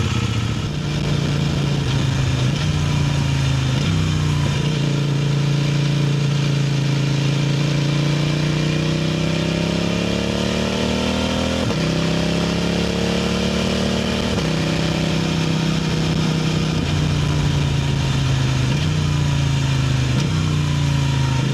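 A 2026 CFMOTO 800 NK motorcycle with stock exhaust runs nearby, idling with a throaty burble and rising and falling in pitch as the throttle is blipped several times.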